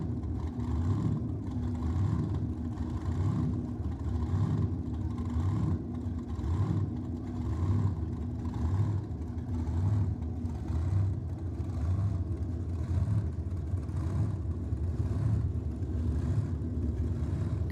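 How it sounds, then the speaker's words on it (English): Drag car burnout from a hot rod with a 283 Chevy engine, a steady loud engine roar with rhythmic pulsing revs and a throbbing low drone, moderately distant. "Big burnout out of the hood rat."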